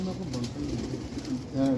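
Pigeons of a rare chapray breed coo softly on a rooftop in Sialkot, low repeated throaty calls under someone talking.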